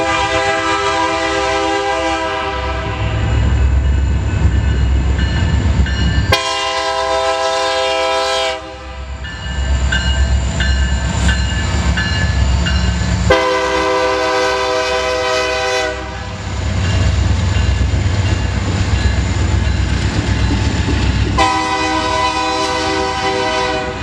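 A Santa Fe freight train led by B40-8W locomotives rolls past up close, with loud, sustained train horn blasts sounding over the steady rumble and clatter of the railcars.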